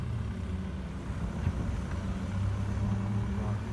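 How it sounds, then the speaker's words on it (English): An Ariel Atom runs on the Anglesey circuit race track, its engine a faint, distant, steady drone that rises slightly toward the end. "That's the fastest an Ariel Atom's gone all day, Phil."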